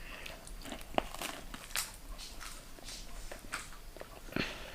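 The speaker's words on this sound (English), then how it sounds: "We can hear the crunch" Crunching bites of homemade pizza being eaten, scattered sharp crisp crunches and chewing sounds at close range, faint and irregular with quiet gaps between bites.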